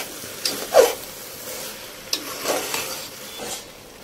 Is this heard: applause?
no